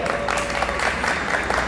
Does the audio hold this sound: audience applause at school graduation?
yes